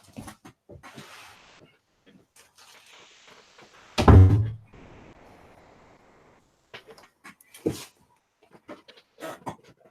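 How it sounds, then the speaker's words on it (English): An indoor door shut with a single heavy thunk near the middle, loud and close, followed by a brief rattle and low hiss, with quiet scattered clicks and movement noises around it. "I'm going to shut my door."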